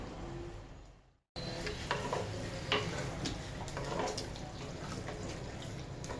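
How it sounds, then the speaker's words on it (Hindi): Cream is stirred into a simmering chicken and ridge gourd curry: a soft continuous sizzle and bubbling with gentle spoon scrapes on top, close by, after a brief cut to silence near the start. "ये जो हमारा 1 टेबल स्पून क्रीम है वो शामिल करनी है इसके अंदर, और इसको बस हल्का सा इस तरह मिक्स करना है एक दफ़ा"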